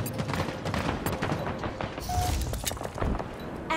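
Dense, continuous gunfire with rapid bursts and heavy thumps in a Halo Infinite multiplayer match, loud and close, with brief radio-style voice callouts over the shooting.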